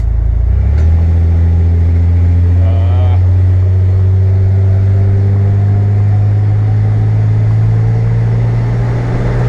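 Steady low engine drone of a Ford E150 panel van cruising at highway speed, with a constant wash of wind noise around it; loud and continuous throughout.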